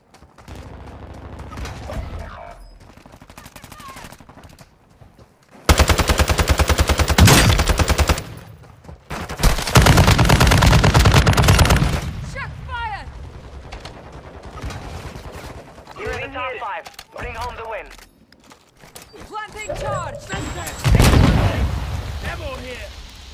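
An artillery strike in Call of Duty Warzone, with heavy booming bursts of explosions and rapid gunfire in several loud waves, mixed with radio voices and game chatter.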